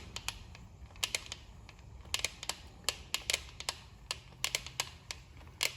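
Flat tappet lifters click against a camshaft in sharp, irregular ticks, some single and some in quick clusters, over a faint background hiss.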